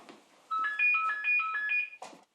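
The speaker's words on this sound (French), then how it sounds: "Un téléphone qui sonne sans arrêt" A telephone rings with a repeating electronic melody of quick alternating tones, several short phrases in a row, fairly close and clear with faint voices around it.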